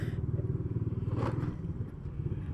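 A motorcycle rides over a speed bump made from a cut tyre, its engine putting steadily nearby with a brief clattering jolt in the middle, no talking.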